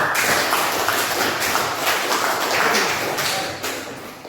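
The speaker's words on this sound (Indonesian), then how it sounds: "Silakan tepuk tangan untuk" A classroom of students bursts into loud, sustained applause, many hands clapping densely and evenly for several seconds before the sound begins to thin and fade slightly toward the end, with no speech.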